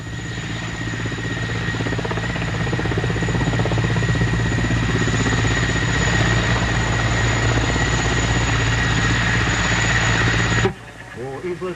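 Military helicopter during a sabotage raid demonstration, with a loud, steady rotor and engine drone that runs close and continuous for about eleven seconds, then cuts off abruptly near the end.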